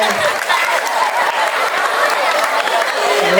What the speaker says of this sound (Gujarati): ચલો જોરદાર તાળીઓ થઈ જાય.